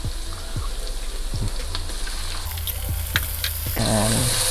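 Chopped garlic and white onion stir-fry in a hot pan for creamy spinach potatoes (aloo saag), a steady close sizzle with soft scraping taps, growing louder and denser near the end.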